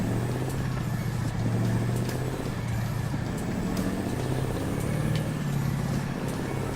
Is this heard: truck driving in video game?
yes